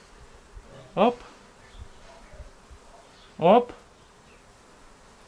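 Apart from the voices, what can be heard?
flies buzzing around fly bait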